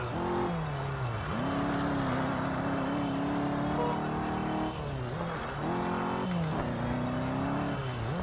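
Rally car engine at full throttle in the Xbox racing game RalliSport Challenge 2, revving hard and steady with sweeping pitch rises and drops at each gear shift and a brief dip around the middle, loud and continuous without talk.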